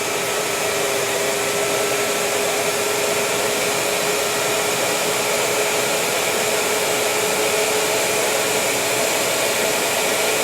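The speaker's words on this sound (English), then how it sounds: "Now, let's do the flywheel. So 114 amps to get the flywheel started." An electric motor in a Jeep CJ7 electric conversion spins up the flywheel, giving a loud, even, continuous whine with a steady tone and no pauses.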